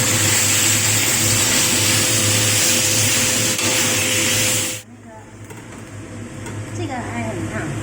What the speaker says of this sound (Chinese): 现在我们把洋葱下去炒，一样要稍微炒一下，要有点焦糖化的感觉。